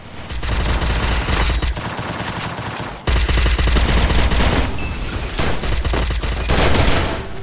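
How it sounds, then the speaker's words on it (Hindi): Sustained MP40 submachine gun fire in an online battle royale shooter match, loud, dense automatic bursts running nearly continuously, with one brief break around the midpoint. "चलो किया भाई एक अच्छा MP40 का हेडशॉट, और इसके साथ 9वां किल मिला है।"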